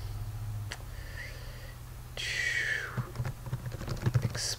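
Keys on a computer keyboard tapped in a quiet room, with a few soft, irregular clicks that pick up into a quicker burst of typing near the end.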